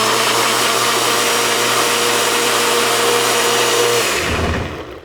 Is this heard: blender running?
yes